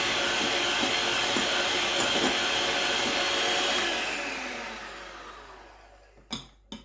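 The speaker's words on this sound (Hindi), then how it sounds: "क्रीम माशाल्लाह से बड़ी अच्छे से व्हिप हो गई है।" Cream being whipped with an electric beater for a mango trifle dessert, a loud continuous motor whir that holds steady, then winds down and fades, ending with a couple of brief knocks.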